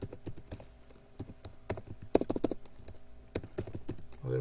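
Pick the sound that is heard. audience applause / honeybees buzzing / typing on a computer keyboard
typing on a computer keyboard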